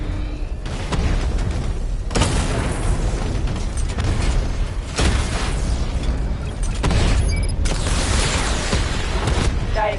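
Repeated heavy explosions from the Batmobile's barrage weapon in Batman: Arkham Knight, a series of loud booming bursts roughly every two to three seconds over continuous rumbling game noise.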